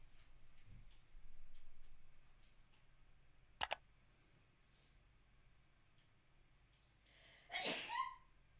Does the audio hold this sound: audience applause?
no